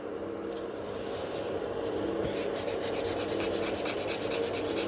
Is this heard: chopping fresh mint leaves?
no